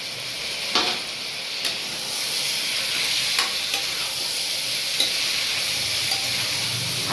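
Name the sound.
tomatoes added to a frying pan with mint and coriander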